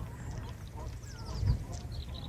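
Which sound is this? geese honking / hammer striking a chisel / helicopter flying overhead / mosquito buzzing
geese honking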